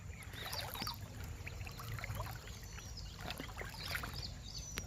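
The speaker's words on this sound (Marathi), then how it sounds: "परत एकदा पाण्यात उतरून चाललेलो आहे" Someone steps back into water while out catching murrel fish, with splashing and trickling sloshes coming in bursts, fairly quiet and close against a steady outdoor background.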